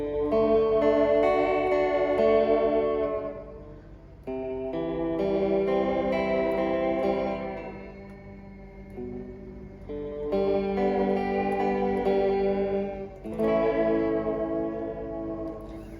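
A guitar plays through a Fender Reflecting Pool delay pedal in tape echo mode 2, with lower fidelity and more saturation. Loud sustained chords and notes smear into echoing repeats in long continuous phrases with short dips, and no voice is heard.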